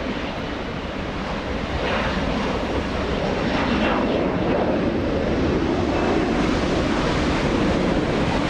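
A Boeing 787 Dreamliner at Los Angeles International Airport makes a continuous broad roar of jet engines, steady and fairly loud from a distance, with wind rushing over the microphone.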